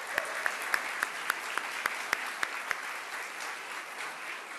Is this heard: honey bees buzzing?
no